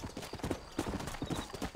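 Sturdy horses clip-clop at a walk, their hooves landing in an irregular run of moderately close knocks with a faint background hiss and no talking.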